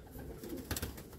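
A racing pigeon coos softly in a loft, one short low throaty call over steady background hiss, fairly close but not loud.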